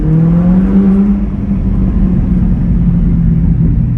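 A 2021 Chevrolet Corvette C8 V8 with track exhaust: a loud, deep engine roar with rising pitch as it accelerates hard in second gear to 3,000 rpm, then settles into a throaty rumble as the throttle eases off.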